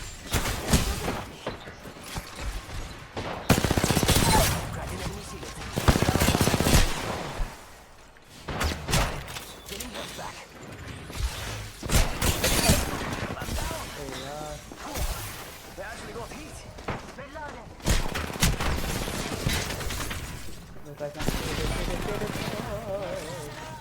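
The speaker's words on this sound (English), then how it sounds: "Listen up, I'm getting shot at. I am taking fire, friends." Bursts of gunfire from the Apex Legends video game come in several loud clusters across the stretch, with a voice talking over and between the shots.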